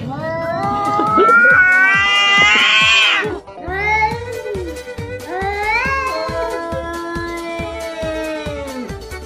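A tabby cat caterwauls during a fight, letting out loud, drawn-out, wavering yowls and growling wails in close succession, very near and intense.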